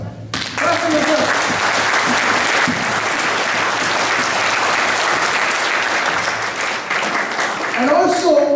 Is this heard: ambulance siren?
no